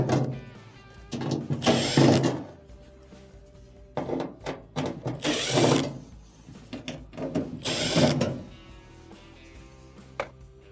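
Phillips screws being removed from the back panel of an LG washing machine: a few bursts of close, loud driver whirring separated by quieter handling clunks and rattles, with no talk.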